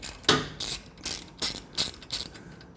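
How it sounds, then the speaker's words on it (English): A 5mm Allen key works an exhaust clamp bolt on a Triumph Bonneville T100/T120 motorcycle, giving about seven close, sharp ratcheting clicks in an even rhythm with no talking. "using our 5mm Allen, you want to loosen this bolt"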